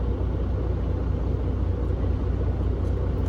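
Tractor trailer truck engine idling from inside the cab, a steady low diesel rumble, close and even, with no other sounds over it.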